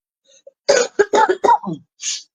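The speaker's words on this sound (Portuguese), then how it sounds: "desculpas pela tosse que ainda está por aqui" A run of harsh, bursty coughs in quick succession, close up, followed by a brief throat-clearing rasp, with no talking.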